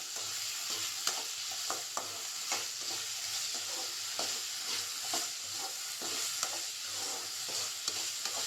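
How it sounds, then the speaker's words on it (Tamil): Steady oily sizzling of potatoes sautéing in oil in a pan, with soft scraping taps of a spoon stirring now and then, close and continuous. "நல்லா வதக்கி விடுங்க எண்ணெயிலேயே."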